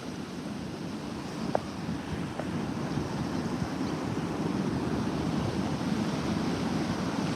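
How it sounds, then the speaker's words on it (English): Gulf waves surge and break on a Texas beach in a continuous loud wash, with gusts of wind buffeting the microphone and no voices. "the waves are getting wild today, Bubba."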